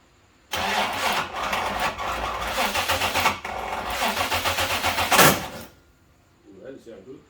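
A Holden VNSS V8 cranks loudly on its first start with a Haltech ECU fitted, churning in rapid pulses for about five seconds, then cuts out, leaving a short, quieter rumble afterward.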